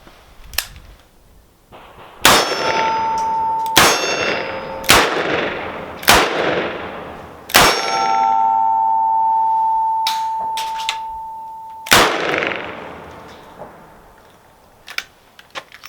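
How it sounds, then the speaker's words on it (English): Ruger Super Redhawk .44 Magnum revolver fired repeatedly outdoors at a steel target, several loud sharp shots spaced irregularly, each followed by a ringing metallic ping and long echo, with no talking. "Let's load 6 more in it. Give it a shot again."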